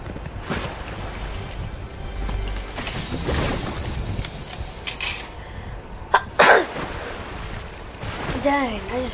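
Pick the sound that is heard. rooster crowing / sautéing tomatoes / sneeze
sneeze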